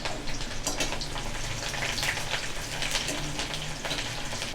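Half an onion frying in a pan for a Tamil green gram kuzhambu, a steady, close crackling sizzle with fine popping throughout and no talk.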